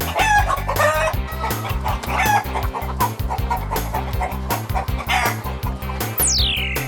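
Several chickens cluck and squawk busily and close by, a continuous noisy farmyard chatter with a rooster's call mixed in.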